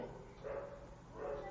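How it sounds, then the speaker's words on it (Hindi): Dogs bark out on a street in two faint, distant bursts, one near the start and one near the end, under steady background noise with no speech. "सड़क पर कुत्ते बहुत भौंक रहे हैं"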